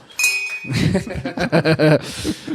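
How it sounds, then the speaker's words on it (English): A bell rung in a studio setting chimes at the start with a bright sustained ring, then fades under loud overlapping chatter and laughter from several people. "Okay, you can ring that bell now."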